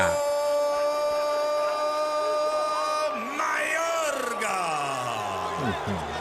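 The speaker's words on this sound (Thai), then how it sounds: "เสียงโห่สนั่นไปเลยครับ" A large boxing crowd boos and jeers loudly and continuously at a fight between Ricardo Mayorga and Oscar De La Hoya, with a sustained wall of yelling and whooping voices.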